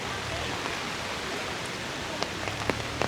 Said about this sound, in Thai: แต่ฝนก็ยังตกอยู่